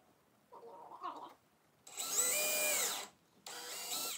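A power drill whirs in two bursts, the first long and steady, the second shorter, after a brief softer rubbing or scraping sound nearby.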